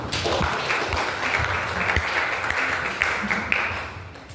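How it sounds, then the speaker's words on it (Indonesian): An audience in a classroom-style session claps together, a broad continuous patter of many hands at moderate level, with a few louder individual claps standing out near the end. "Oke, tepuk tangan."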